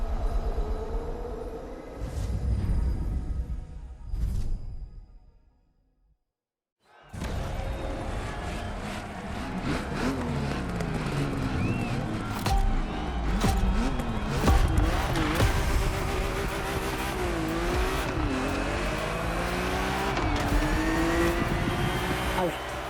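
A classic BMW M race car in the racing game The Crew Motorfest growls and revs through shifting engine pitch, with a brief silent gap early on, while someone talks over it.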